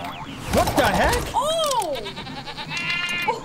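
A sheep bleats in the Skylanders Trap Team video game with a rising and falling wavering cry, close and loud, amid game music and chirpy effects while someone talks.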